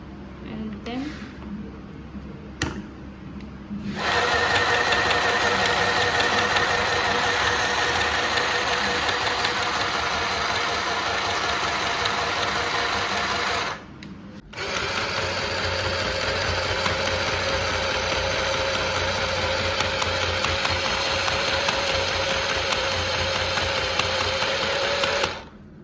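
Akira mini sewing machine running steadily while stitching cloth, a continuous motor whir with a brief pause near the middle, preceded by quieter handling and talk at the start.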